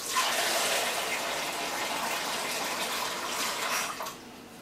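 Water pours steadily into a measuring cup for a dill pickle brine, a soft continuous splashing gush that tapers off near the end, with no talk over it.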